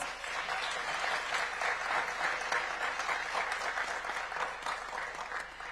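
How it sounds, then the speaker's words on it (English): Audience members at the Africa Forward Summit co-hosted by Kenya's and France's presidents clap in a steady, even round of applause lasting several seconds, moderately distant, with faint crowd murmur. "Please give them a round of applause."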